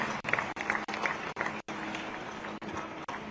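A crowd at a village public event in India, where officials and the chief minister are being thanked, claps in a steady, moderately distant round that breaks off briefly several times before continuing.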